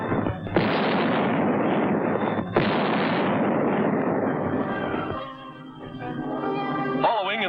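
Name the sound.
155 mm Long Tom artillery guns firing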